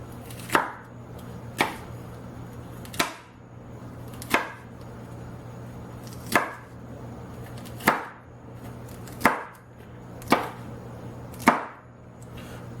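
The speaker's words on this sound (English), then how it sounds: "And now I'm going to come back and chop it again." A knife chops vegetables for salsa on a cutting board, about a dozen sharp, evenly spaced strikes in a steady rhythm, close and clear over a low background hum, with no talking.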